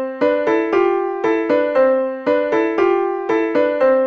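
Two sequences of electronic tones, each side playing its own melody, sound together as a Deutsch auditory illusion, forming a clean repeating pattern of sustained notes that steps between pitches in a steady rhythm.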